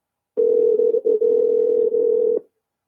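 A steady telephone ringback tone plays loud and clear over a call for about two seconds with brief dropouts, no voices.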